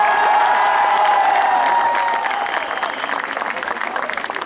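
Audience clapping at a youth festival event, a dense wash of applause that grows rougher and more scattered toward the end, with a voice and a sustained tone over the first half.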